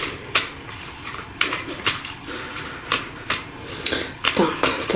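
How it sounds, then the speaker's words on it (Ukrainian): Crisp bursts of riffling card shuffles come in quick, uneven clusters, close to the ear, with faint background murmur between them. "тасуємо, тасуємо, щоб гарно перетасувати"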